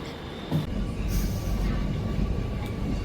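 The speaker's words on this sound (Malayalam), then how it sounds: "ഞങ്ങൾ മെട്രോ കയറി ഗൈസ്" Inside a moving metro train in Ernakulam, a steady low rumble of the running carriage continues for a few seconds, with a brief louder bump near the start.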